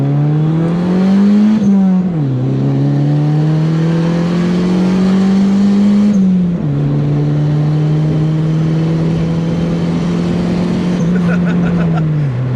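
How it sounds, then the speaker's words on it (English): A turbocharged Mitsubishi Mirage EVO 1.5 engine drones loudly from inside the car while driving, its pitch rising under load, dipping briefly at shifts, then climbing again steadily. "that turbo's putting in some work too, man"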